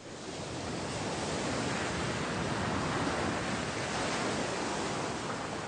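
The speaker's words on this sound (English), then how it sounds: "Transitioning to ocean sounds." Broadband ocean wave sound, a constant hissing surf wash that fades in, holds steady and smooth at moderate loudness, then cuts off abruptly at the end.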